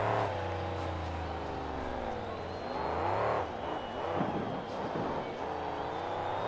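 Monster truck engine at a freestyle final, revving hard with sweeping harmonic pitch rises and drops as the throttle is floored, loud and continuous under an announcer's commentary.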